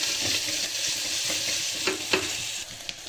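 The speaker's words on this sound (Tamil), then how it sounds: "வெங்காயம் நல்லா வதங்கட்டும்." Ground onions sautéing in a pan, a steady nearby sizzle broken by soft scraping stirs and a few light spoon taps, with no talking.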